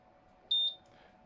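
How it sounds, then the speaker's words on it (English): A Quick 861X 1300W SMD rework station gives a single short, high electronic beep at power-on, clear and close against a quiet background. "Single beep, and then we're presented with some dashes on the screen"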